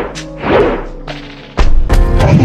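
Heavy thuds and whacks land from a character's dash attack in the video game Orangutan vs Rocketa, one impact early and a louder burst of hits after a pause, with no voices.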